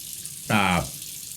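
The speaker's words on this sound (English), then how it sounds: "I'm just rinsing this stuff off." A shaving brush and Rockwell safety razor are rinsed under a running tap: a short, steady splash of water lasting under half a second, close and fairly loud against a quiet room.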